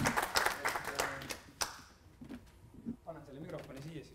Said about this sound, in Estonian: ma arvan, et võime teha ühe sellise aplausi